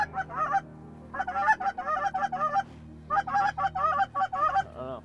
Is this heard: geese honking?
yes